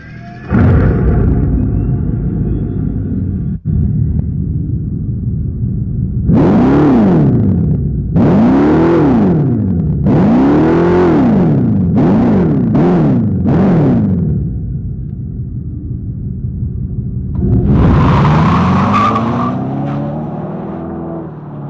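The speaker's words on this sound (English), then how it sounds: "Let's fire up this Charger Daytona and hear that Fratsonic chamber." A 2024 Dodge Charger Daytona Scat Pack with its Fratzonic chamber exhaust, electronically synthesized, gives a loud muscle-car rumble followed by a series of about six rising and falling revving sweeps, then a final surge, with no talking.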